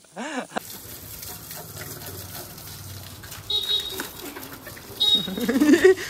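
Water gushes and sprays while a new motorbike is being washed, irregular bursts of splashing that grow louder in surges toward the end, with short tonal squeaks and noises scattered through.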